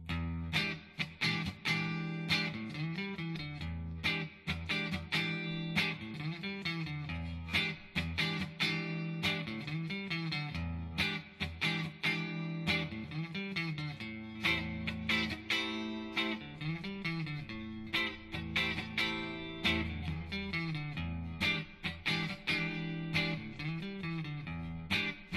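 An electric guitar played through a modified Marshall JCM amp with an added negative feedback loop, giving a distorted, fairly clean-edged tone, with a steady run of strummed chords and picked riffs, close and loud, with no talking.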